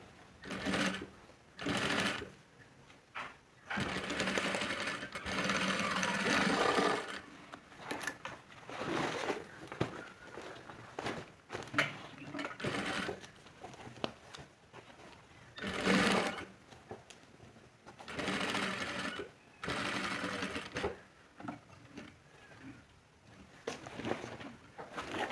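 A sewing machine stitches a bag with half-inch seam allowances, running in repeated bursts of rapid mechanical whirring separated by short pauses, close and fairly loud throughout.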